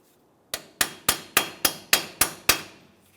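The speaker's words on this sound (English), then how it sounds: "just give it a couple loving bonks with your hammer until you see the wheel bearing start to break free" Eight sharp hammer bonks on a socket to free a Jeep Wrangler front wheel bearing, evenly spaced metallic hits each with a short ringing decay, close and clear.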